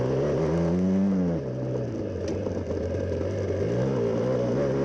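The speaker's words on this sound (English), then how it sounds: "Max throttle, here we go, closing out the final lap." An off-road race vehicle engine roars at full throttle on the final lap of a Lucas Oil off-road race, a loud steady drone with the pitch rising and falling as it revs, close and continuous.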